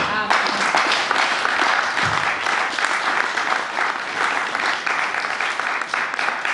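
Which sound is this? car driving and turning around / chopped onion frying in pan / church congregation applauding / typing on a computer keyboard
church congregation applauding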